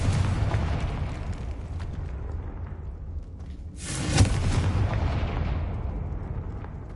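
Confringo spell explosion in the game Hogwarts Legacy, a sudden loud blast midway that rises out of low rumbling battle noise and fades into a heavy roar.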